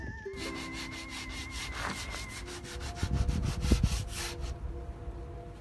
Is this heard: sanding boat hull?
yes